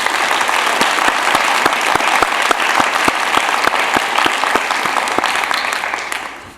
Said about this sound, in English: So a round of applause for Brian Lamb.